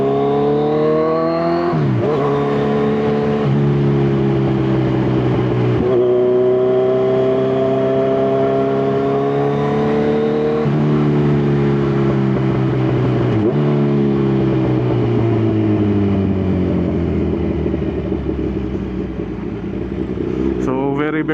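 Kawasaki Z1000 motorcycle engine revs loud and close, its pitch sweeping up and down in repeated surges as the throttle rises and falls, with a few sharp drops between pulls.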